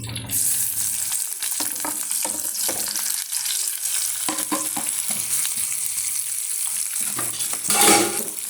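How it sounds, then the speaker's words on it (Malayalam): Sliced raw plantain (ethakka) pieces fry in a hot pan, with a constant loud sizzle broken by repeated scraping stirs and a louder flare of hissing near the end. No one speaks. "ഇത് നമുക്ക് ചൂടായിട്ടുണ്ട് ഇതിലേക്ക് നമുക്ക് കായിട്ട് കൊടുക്കാം"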